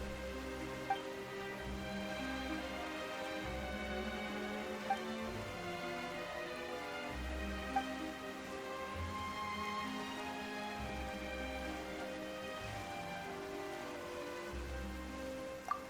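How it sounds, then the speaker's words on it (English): Rain falls steadily in Genshin Impact, a soft, even patter across a surface that keeps going throughout, with faint low tonal layers and occasional small ticks beneath it. "Why is it raining all of a sudden?"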